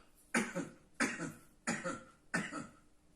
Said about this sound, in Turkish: şöyle sahte öksürükler bak